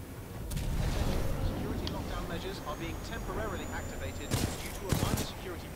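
Rapid Flatline rifle fire in Titanfall 2 crackles at mid distance under a steady background rumble, with a couple of louder bursts near the end and a voice talking over part of it.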